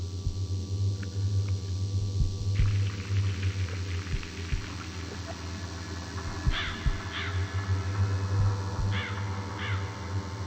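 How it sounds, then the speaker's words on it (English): Eerie caws and rising chirps from a crow-themed painting in The Lost Crown, a ghost-hunting adventure game, sound over a low droning hum, with faint knocks and creaks scattered throughout. "Strange sounds recorded from the painting Tree of Crows."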